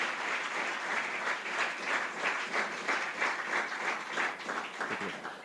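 An audience claps warmly at a Kannada book release ceremony, a dense and steady burst of applause lasting several seconds with no talk over it.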